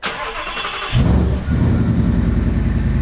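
A Ford Bronco with a Coyote engine cranks briefly, then catches and settles into a loud, close, steady rumbling idle.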